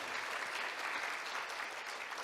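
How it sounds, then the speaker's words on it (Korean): Steady applause from a lecture audience, closing a special talk on work and life in the AI era at a Kim Dae-jung centennial peace festival academic session; dense, even clapping that carries on without a break and without any talking over it. "다시 한번 큰 박수 부탁드리겠습니다."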